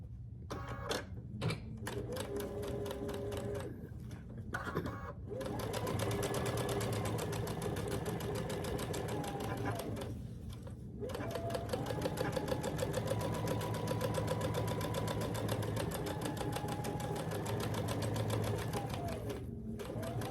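A sewing machine runs a seam on a Grinch-themed quilt block in long, steady whirring runs, stopping briefly several times before starting again, close and alone without talk.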